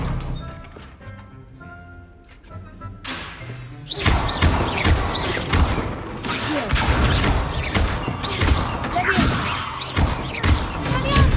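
An Incendio fire spell cast in Hogwarts Legacy on PS5 at hard difficulty: a quiet spell-casting moment gives way to a sudden loud, roaring burst that stays dense and thudding to the end.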